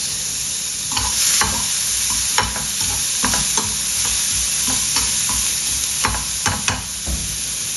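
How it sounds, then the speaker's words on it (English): Chopped shallots sizzle and fry in a pan with olive oil, a loud continuous crackle broken by frequent scraping stirs and clacks of a utensil against the pan, with no voices. "On the same pan, I'm going to go for the chopped shallots."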